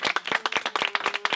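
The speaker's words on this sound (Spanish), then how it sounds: "Así que un aplauso" Small workshop group clapping at a bamboo flute-making session in Asturias, a brisk, close burst of uneven handclaps lasting about a second and a half, with no talking.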